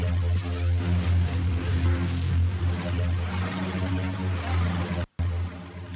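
Untamed, a hairy lead source from Heavyocity Mosaic Leads: a gritty, buzzing sustained synth tone with a strong low fundamental and noisy, rough upper harmonics, held steadily with a brief cut near the end.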